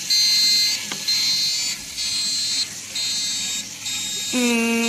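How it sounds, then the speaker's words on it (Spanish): An electronic buzzer sounds in repeated steady high-pitched bursts with brief gaps between them, loud and close, ending in a shifting tone. "Entonces la alarma con el buzzer."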